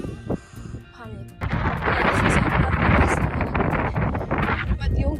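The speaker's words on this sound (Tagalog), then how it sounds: "Sa sobrang lakas ng hangin." Strong wind roars steadily into the microphone with heavy buffeting gusts, starting softer then surging loud for the remaining seconds.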